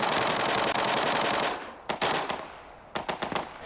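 Loud, rapid automatic gunfire in the mobile shooter game Arena Breakout, a sustained burst followed by a few shorter choppy volleys.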